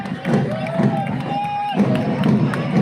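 Crowd at an Independence Day school parade in Kalimpong cheering and clapping, a dense, loud hubbub of voices and shouts heard close, with a faint sustained whistle-like tone running through the middle.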